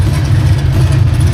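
A yellow classic car's engine runs steadily at a restoration show on setup day, a loud, continuous low rumble close by with no pauses or speech.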